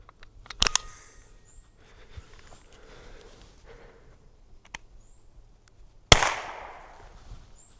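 An Umarex TR50 airgun revolver fitted with a power kit fires one sharp, loud crack near the end, with a fainter snap earlier and quiet handling clicks between.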